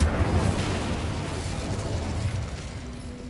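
Hogwarts Legacy's Incendio fire spell going off as a dense, roaring blast of flame with a low rumble, steady and loud throughout, tapering a little at the close.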